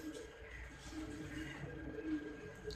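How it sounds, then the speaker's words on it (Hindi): A breeder female teddy-breed pigeon gives soft, low, throaty coos at close range, repeating in a gentle rolling rhythm over faint background noise. "ब्रीडर कबूतरी, अभी बच्चे पाले हैं इसने।"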